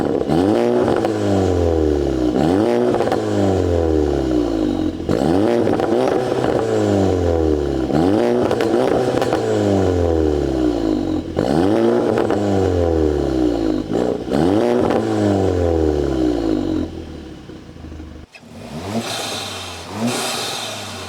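A VW Golf GTI tuned to Stage 2, with downpipe and racing-line intake, revs repeatedly through its exhaust, each loud, close rise falling away in a steady cycle before a brief stop and a rougher final burst.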